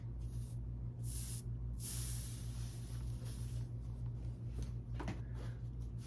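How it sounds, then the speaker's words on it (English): Water is misted from a spray bottle onto fabric at an ironing board, giving several short hissing bursts that are close and fairly loud, spread over a few seconds against a steady low hum. "Okay, I'm going to spray that with water."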